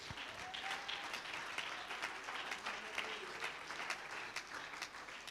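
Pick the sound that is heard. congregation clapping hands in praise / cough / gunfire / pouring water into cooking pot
congregation clapping hands in praise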